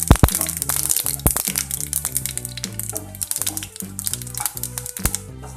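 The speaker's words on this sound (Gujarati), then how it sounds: "રાઈ બરાબર ફૂટી જાય" Mustard seeds pop in hot oil with rapid, sharp crackles and snaps, close and busy throughout, over a soft backing melody.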